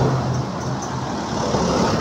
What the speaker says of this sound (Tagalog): Puro truck ang bumabiyahe.